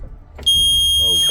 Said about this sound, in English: our low pressure alarm should come on right around at 60 pounds